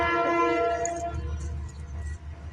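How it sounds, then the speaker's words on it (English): A train passing in the background, a sustained tonal horn blast with layered harmonics fading after about a second into low rumbling rail noise, moderately loud with no speech. "Damn trains are making noise in the back."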